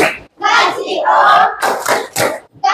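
A class of children at an elementary school do the rhythmic tepuk wow clap, sharp group hand claps mixed with shouted chanting voices in quick bursts.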